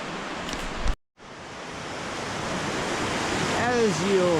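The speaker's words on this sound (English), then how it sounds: "I'm back at the little waterfall," A small river waterfall on Vancouver Island rushes as a steady broadband roar, briefly cut off near the start, then continuing loud and close with a faint high bird call toward the end.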